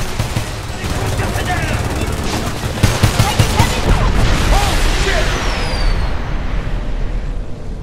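Homefront, the 2011 shooter, with dense, loud rapid gunfire, repeated bursts and booms layered over a constant battle roar, and shouted voices mixed in.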